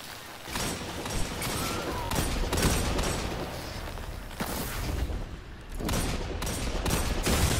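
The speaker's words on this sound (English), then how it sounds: "That bitch try to use a fusion rifle on me." In a shooter video game, gunfire crackles in rapid, overlapping bursts with booming impacts, loud and near and nearly continuous, with short dips between volleys.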